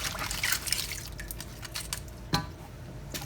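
Bok choy washed in water, with close splashing, dripping and squishy handling sounds in irregular bursts and no speech over them.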